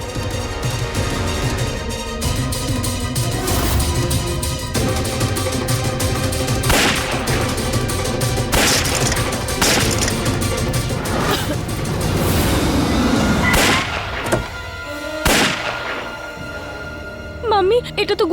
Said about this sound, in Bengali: গুলি চলার আওয়াজ পাচ্ছি